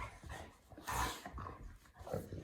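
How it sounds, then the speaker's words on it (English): Several dogs play and scuffle together, with quiet, close, noisy snuffling and brief growl-like bursts over a few seconds and no talking. "I'm going to end this video with showing my wild dogs."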